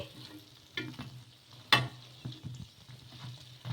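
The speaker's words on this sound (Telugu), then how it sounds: "మీడియంగా పెట్టేసుకొని గోల్డెన్ కలర్ వచ్చే వరకు కాల్చుకో ఫ్రై చేసేసుకోవాలి" Flatbread-like snack made from flour frying in a pan until golden, a quiet sizzle broken by a few sharp clinks and scrapes as pieces are turned, close with no talking.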